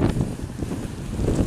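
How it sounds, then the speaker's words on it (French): Strong wind buffeting the microphone at an outdoor car meet in a storm, a loud continuous rumbling roar with gusty swells throughout. "Il y a beaucoup de vent."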